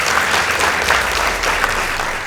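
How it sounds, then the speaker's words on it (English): An audience at a school debate between two high schools claps in sustained, dense applause, loud and close, with a faint crowd murmur underneath. "Let's give them a round of applause."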